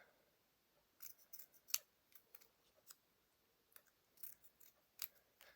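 Scissors snip through paper, cutting out small word strips for a handmade vintage typewriter card; a quiet series of short, crisp cuts comes in irregular bursts, close by, with no talking.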